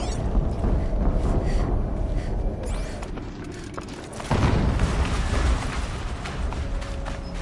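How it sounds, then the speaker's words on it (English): A dense, rumbling explosion from the Horizon Zero Dawn game, with heavy low booms over sustained mechanical game noise, growing louder and thicker near the midpoint and staying loud to the end. "An explosion."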